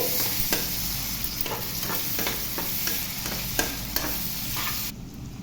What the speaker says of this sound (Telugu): ఇప్పుడు దీనిలో సన్నగా తరిగిన టమోటా ముక్కలు వేసుకోవాలి